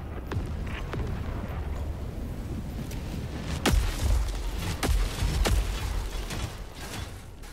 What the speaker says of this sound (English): Sending down equipment package.